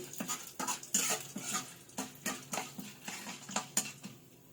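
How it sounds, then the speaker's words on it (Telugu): Peanuts and moringa leaves fry in a pan while a utensil stirs them, giving a steady run of close scraping taps roughly twice a second over a soft sizzle. "కొన్ని వేరుశనగ గుళ్ళు కూడా వేసుకోండి. ఇవన్నీ బాగా వేయించుకోవాలి."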